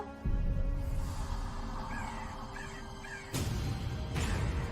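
A crow caws a few times amid a noisy indoor background, short rasping calls in the middle of the stretch, joined by sudden loud broadband bursts, with no talking.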